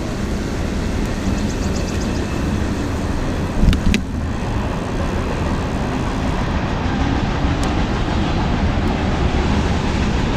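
A train rushes past at close range, a loud continuous rumble and roar of rail cars that persists throughout, with a brief sharper rattle partway through.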